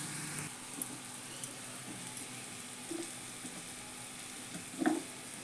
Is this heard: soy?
yes